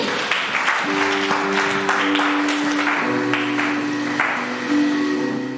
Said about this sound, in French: Acclame très fort le Saint-Esprit.